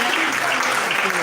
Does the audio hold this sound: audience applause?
yes